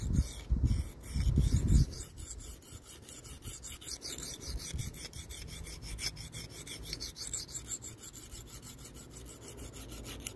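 A Spyderco Manix knife blade rasps in steady, rhythmic strokes across Venev resin-bonded sharpening stones, close and even, after a few louder scuffs at the start.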